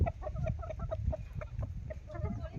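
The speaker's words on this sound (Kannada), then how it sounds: "ಸಣ್ಣ ಕಟ್ ಮಾಡಿ ಹಾಕ್ಯಾಡ್ರಿ ಕೋಳಿಗಳು ತಿಲ್ಲಾಕತ್ತಂದ" Chickens cluck in short, scattered calls while pecking at finely chopped feed in a village yard, several birds close by, with a low murmur of background noise and no speech.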